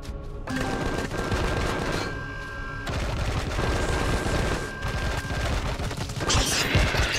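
A minigun in the space survival game Empyrion Galactic Survival fires in long, loud, unbroken bursts, a dense roaring rattle that barely pauses over several seconds.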